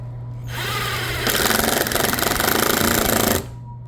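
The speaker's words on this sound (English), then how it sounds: "so you get the tip of the double-sided screw, you start drilling" A power drill whirs up close, then bites into plastic with a louder, rapid buzzing grind for about two seconds, driving a double-sided screw for side splitters on an Audi, before stopping abruptly.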